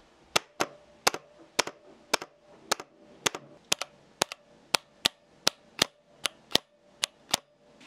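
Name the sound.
mechanical keyboard switch spring sound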